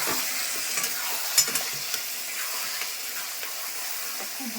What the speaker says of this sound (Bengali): খুব ভালো করে ভাজা হবে